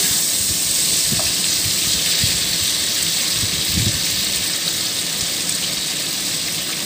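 Vegetables fry in a pan with a loud, constant hiss and sizzle, while low bumps and scrapes from stirring pulse underneath.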